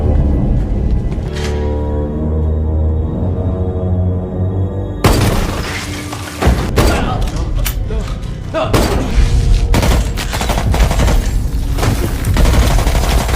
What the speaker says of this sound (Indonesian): si bos memberondong area sekitar dengan senjata beratnya